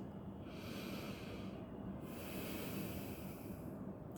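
Slow diaphragmatic yoga breathing, with a long soft inhale and exhale repeating in a steady cycle, airy and close against a constant hiss, no voice.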